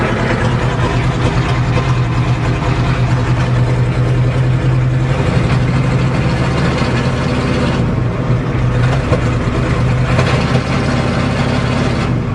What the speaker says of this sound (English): Gotta love your Ford truck.